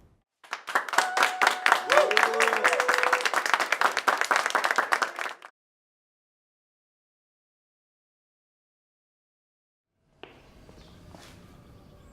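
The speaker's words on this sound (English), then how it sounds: "Big round of applause." A studio audience breaks into dense applause with a few voices cheering over it. The clapping runs about five seconds, then cuts to silence before faint room noise returns.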